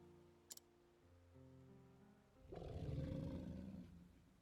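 A low, rumbling growl rises after a quiet stretch and swells for about a second before fading, with a brief click earlier and faint steady hum beneath.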